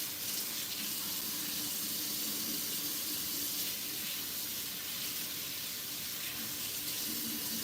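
Tap water runs steadily into a sink for washing, a continuous close splashing hiss that stays even throughout with no speech.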